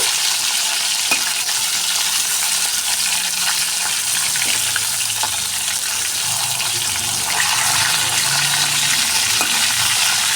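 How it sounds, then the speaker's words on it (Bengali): Rupchanda pomfret fish frying in hot oil gives a loud, dense, continuous sizzle close up, with faint occasional pops and clicks throughout. "এরপর আমি উল্টে পরের পিঠটা ভেজে নেব"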